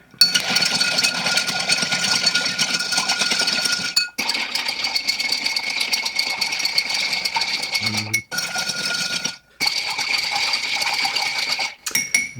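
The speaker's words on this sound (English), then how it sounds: "About 30 seconds stirring each one of these, so bear with me as I stir it up a little bit" Ice clinks and rattles steadily as a bar spoon stirs a Campden cocktail made with Kina Lillet in a mixing glass. The sound is close and continuous, with brief pauses near 4, 8, 9.5 and 12 seconds, and no voices.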